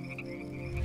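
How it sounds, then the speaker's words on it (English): Frogs croak steadily in the Deiland video game, a continuous chorus of repeated calls at moderate loudness with a low rumble building toward the end. "I hear the frogs."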